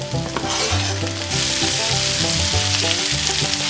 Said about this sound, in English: Once your onions are cooking, get your garlic in there.